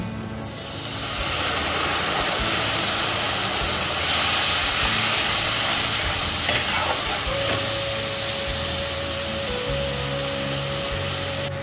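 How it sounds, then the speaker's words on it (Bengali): Water and fried spices (turmeric, chilli powder, salt) for a Bengali tel koi fish curry boil and sizzle steadily in a pan, with a loud continuous frying hiss and occasional stirring scrapes. "জলটা একটু ফুটে উঠেছে"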